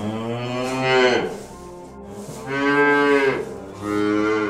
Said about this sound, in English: The cow says